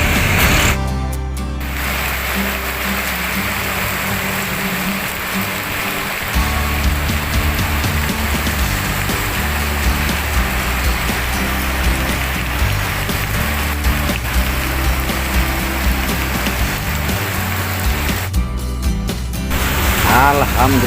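Steady rain falls throughout on Jalan Sawangan Pasir Putih beside a roadside mie ayam stall, a dense continuous hiss with mechanical clatter and someone talking over it.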